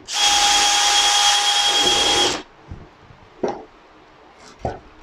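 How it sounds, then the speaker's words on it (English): A loud, steady power drill whirs for about two seconds while drilling a hole for a mini vertical garden, then stops; a few short knocks and clicks follow in the quiet. "So I'm going to drill it"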